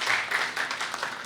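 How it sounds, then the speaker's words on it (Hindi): Audience applause at a commemorative ceremony of a Digambar Jain institute in Varanasi, a dense, steady patter of many hands clapping for just over a second at moderate level, with no speech over it. "ताली बजाओ अगर टाइम देंगे"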